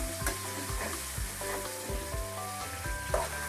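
Pork with holy basil and bamboo shoots is stir-frying in a pan, a steady close sizzle broken by repeated scraping stirs of the spatula.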